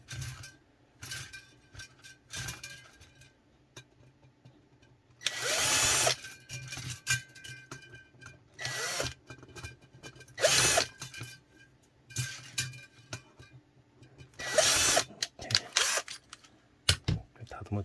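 A power drill bores holes through a hot water container, an anchovy-net style tank, with several loud bursts of drilling separated by quieter handling and faint talk.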